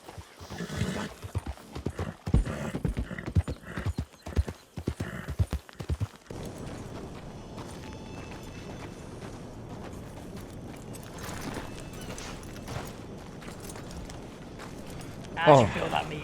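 Horse hooves clip-clop in Red Dead Redemption 2 as a rapid, close, rhythmic trot for several seconds, then fade into steady background noise. People talk over it.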